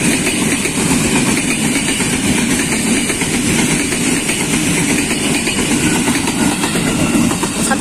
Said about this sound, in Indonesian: Seri 130 berangkat dari stasiun Depok